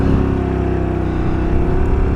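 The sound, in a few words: scooter accelerating away into traffic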